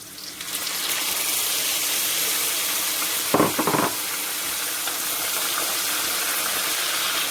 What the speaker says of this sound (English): So now putting back the onions, refrying it again. So I'm gonna tip in my tomatoes.